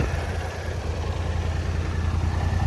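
A 2016 BMW C650GT ABS maxi-scooter with low mileage idles steadily, a close, constant low engine rumble with no voices over it.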